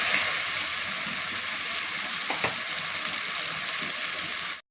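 A steady, close hiss and bubble of a spice mixture simmering in a pan for mustard hilsa, continuous and even until it cuts off abruptly.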